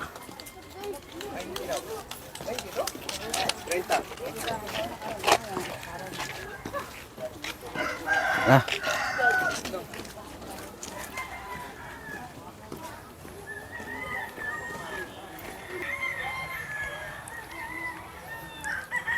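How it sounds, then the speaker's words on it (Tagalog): Chickens cluck and a rooster crows at a middle distance outdoors in a cemetery in the late afternoon, while people talk over the birds throughout. "Dami palang mga manok dito"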